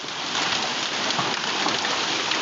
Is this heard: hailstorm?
yes